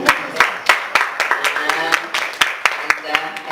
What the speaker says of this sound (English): You can hear her clapping.